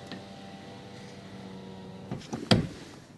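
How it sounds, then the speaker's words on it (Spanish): A Suzuki Celerio's electric power window motor hums steadily as the glass lowers all the way, then ends in a couple of sharp clunks as it reaches the bottom, recorded close inside the car. "Que baje toda la ventanilla, está muy bien."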